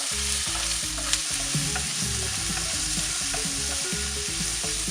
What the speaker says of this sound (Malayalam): നമ്മളിത് ചെയ്യുമ്പോൾ ഹൈ ഫ്ലെയിമിലിട്ട് പെട്ടെന്ന് ഇതെല്ലാം ഒന്ന് വഴറ്റിയെടുക്കുക വേണ്ടത്.